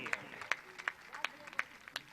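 Scattered hand claps ring out at a Hindi poetry recital in Jaipur, sharp uneven claps spaced a fraction of a second apart, fairly quiet and sparse rather than a full ovation.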